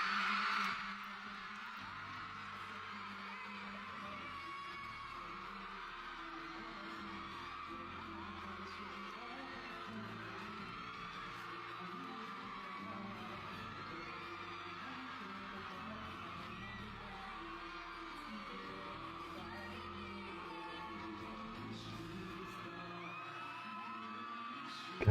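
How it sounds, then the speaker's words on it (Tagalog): A concert crowd screams and cheers steadily through a live performance, a dense, fairly distant roar of voices that runs unbroken for the whole stretch. "Grabe, ang lakas ng hiyawan, hindi marinig"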